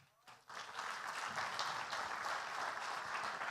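A church congregation at a family worship service breaks into applause, a soft, steady wash of many clapping hands rising after a brief quiet moment and sustained, faint and distant.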